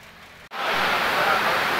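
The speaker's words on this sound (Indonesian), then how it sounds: "Hujan guys." Rain falls steadily on hillside terrain near Sembalun on Rinjani, a dense, close hiss that starts abruptly after a brief lull and then holds at an even level.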